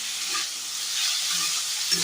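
Vegetables frying in a pan give a steady close sizzle and crackle of hot oil, constant and alone without any talking.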